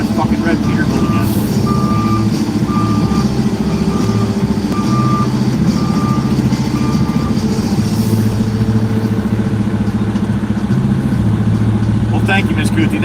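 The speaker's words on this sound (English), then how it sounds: "It's that fucking red Peterbilt again." A red Peterbilt truck in a yard, its engine rumbling steadily while a reverse alarm beeps at an even pace of about one beep per second for several seconds, then the engine drone carries on alone.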